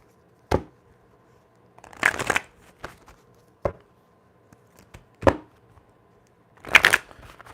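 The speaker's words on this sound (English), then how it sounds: "Let's get a quick shuffle." A deck of cards is shuffled for a tarot reading in several short bursts of riffling and snapping, close and crisp, with quiet pauses between them.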